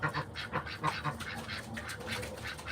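Backyard ducks and geese at feeding time, a busy run of quacks and honks close by in quick, overlapping bursts with a little background chatter.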